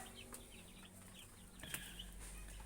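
Broiler chickens cluck and peep faintly in their pen on a small farm, scattered short calls over a low steady background hum.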